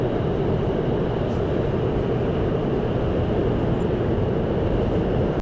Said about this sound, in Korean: 여러 가지 복잡한 심경으로 전철을 타러 갑니다